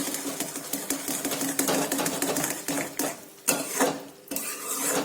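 A spoon stirs dry ginger powder into hot pearl millet flour porridge, producing rapid metallic clinks and scrapes against the pot, close and fairly loud with brief pauses.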